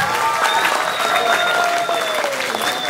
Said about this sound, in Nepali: कृपया तालीको अपेक्षा गर्दछु एकपल्ट फेरि